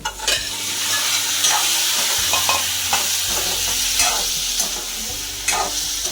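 Fish pieces drop into a pan of sizzling garlic curry, frying hard with a steady loud sizzle broken by scraping stirs and clinks, no voices.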